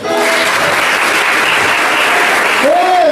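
Church congregation clapping in praise, a dense and loud burst of applause held throughout, with a voice rising over it near the end.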